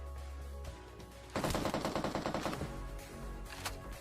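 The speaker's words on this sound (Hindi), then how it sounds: "मेरे को पीछे फायरिंग की साउंड आती है" Rapid automatic gunfire in the mobile battle-royale game PUBG Mobile erupts after a quiet moment and rattles on as a loud, dense burst of shots before tapering into scattered fainter reports.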